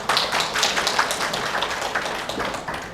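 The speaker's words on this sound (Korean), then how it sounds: "큰 박수 필요합니다." Audience applause at a crowded real estate sales presentation in Orange County, dense steady clapping from many hands filling the room, close and loud, fading slightly at the end.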